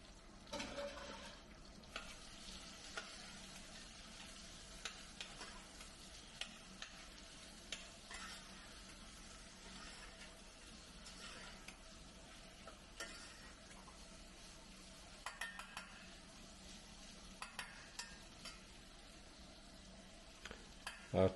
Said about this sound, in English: we're going to throw in our onions and start softening them just a little bit